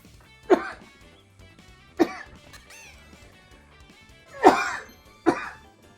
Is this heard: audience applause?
no